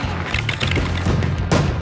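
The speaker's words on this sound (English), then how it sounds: "One explosion at a time." Fireworks go off in a rapid barrage of loud booms and crackling bursts, several overlapping blasts close by, with a heavier bang near the end.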